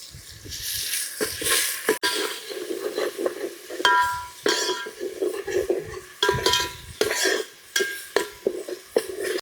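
Ground masala paste frying in a pan while a spoon stirs and scrapes it, bursts of sizzling broken by sharp metallic clicks of the spoon against the pan, close and moderately loud with no talking.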